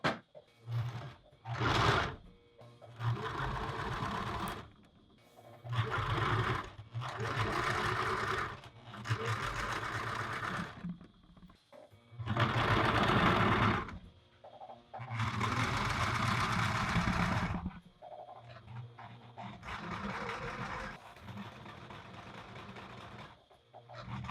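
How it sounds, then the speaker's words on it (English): A sewing machine stitching a front dart on a garment, running in several loud bursts of rapid whirring and stitching separated by short pauses, close up. "There's one front dart finished, and now I'm going to sew the second front dart."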